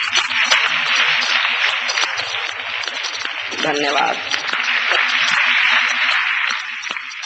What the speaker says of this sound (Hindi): जोरदार तालियां बजाइए फिर।